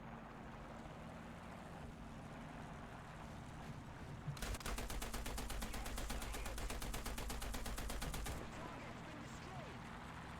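Rapid automatic gunfire rattles steadily for about four seconds in the War Thunder combat game, a dense continuous burst standing out over a low engine rumble and faint background noise.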